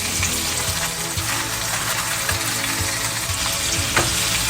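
Loud, steady sizzling of lamb chops frying in a hot pan, a constant crackling hiss that fills the whole clip with no voices.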